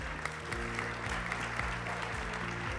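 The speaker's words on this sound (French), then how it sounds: "Vous pouvez l'applaudir." Conference audience applauding as panelists are introduced, a moderately quiet, continuous spread of many hands with a low steady hum beneath.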